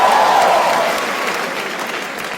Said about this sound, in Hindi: एक बार जोरदार ताली बजा दो सबके लिए भाई